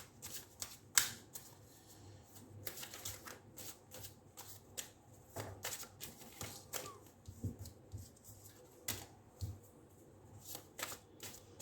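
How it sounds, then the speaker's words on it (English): Ethereal Visions tarot deck being shuffled and cards drawn, giving quick riffling bursts and crisp card snaps in irregular clusters, close and fairly quiet, with no talking. "from the Ethereal Visions Tarot, we'll take out 4 cards to tell you the same"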